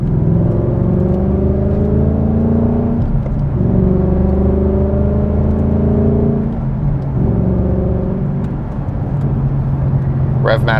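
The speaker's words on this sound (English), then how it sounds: "Rev match downshift." A 2021 Ford Mustang Mach 1 with the Handling Package blips its engine in a rev-match downshift, a steady loud cabin drone of engine and road noise with short rev flares, heard from inside the car.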